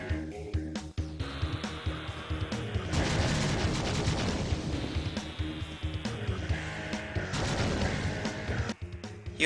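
Dense buzzing synthetic explosions and missile fire from an Atari Jaguar shooter game, a continuous crackling roar with bursts and abrupt cuts, no voices.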